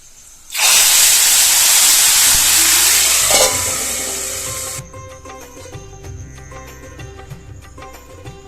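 Hot tempering with dried red chillies, fried in oil, is poured into a Tirunelveli-style Pongal vegetable kuzhambu. It bursts into a loud, hissing sizzle that holds for several seconds, then softens and dies away to a quiet bubbling.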